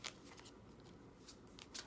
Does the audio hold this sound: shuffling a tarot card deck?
yes